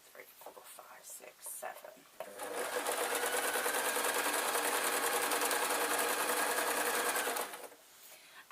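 Sewing machine stitching a rag rug held with safety pins, running in one continuous, loud, even whir for about five seconds, with soft handling noises and quiet talk around it before and after.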